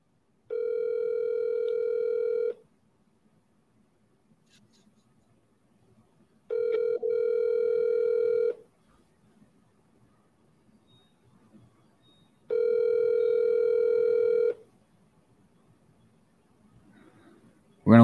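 Telephone ringing out while calling a seller, three steady electronic ring tones of about two seconds each separated by long quiet gaps, clear and close.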